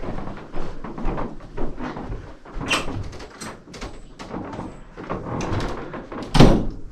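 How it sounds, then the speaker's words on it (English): A door being unlocked and opened in an old house, with clunks, rattles and a squeak through steady outdoor background, ending in a louder knock or thud near the close. "I have to step out for a minute to unlock this door"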